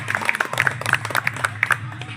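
An audience at a YouTubers' gathering and felicitation event claps in quick, uneven bursts, many hands close by over a low hum, with a voice briefly heard.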